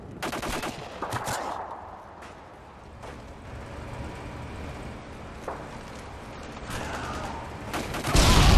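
A sentry gun fires in Call of Duty: Modern Warfare 2 during a hardcore team deathmatch on the Karachi map. Rapid automatic gunfire crackles loudly in bursts, with other game noise between them and a heavy boom at the end.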